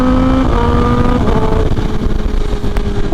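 Kawasaki ZX10R motorcycle engine pulling hard on the Yamuna Expressway, a loud, steady roar with rising harmonic tones as it accelerates through a short sprint, wind rush filling the background.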